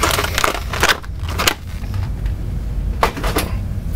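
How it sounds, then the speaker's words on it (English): Package of batteries being torn open by hand, with loud close crinkling and crackling of plastic and cardboard, several sharp rips and snaps throughout. "So, let me open these batteries real quick."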